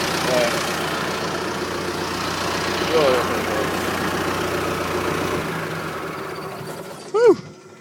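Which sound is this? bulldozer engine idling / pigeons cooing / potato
bulldozer engine idling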